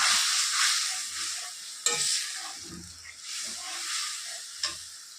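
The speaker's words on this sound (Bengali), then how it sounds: "এবার দিয়ে দেবো আমি জল সর্ষের যে বাটিটা ছিল সেই জল দিচ্ছি" Mustard-sauce hilsa fish frying in a pan as water is poured in, a steady broad sizzle with stirring scrapes and a couple of sharp clinks from the utensil, no talking.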